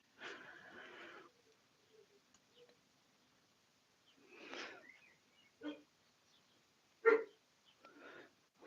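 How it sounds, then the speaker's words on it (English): A single dog barking in a few scattered, short bursts with silent gaps between them, sounding moderately distant and fairly faint, with no talking. "Can you hear them barking still?"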